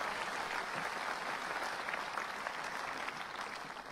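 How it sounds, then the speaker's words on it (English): Tennis spectators applaud at an outdoor grass-court exhibition match, a steady dense wash of clapping from a large crowd holding level for the whole stretch with no talk above it. "Certainly worthy of the applause."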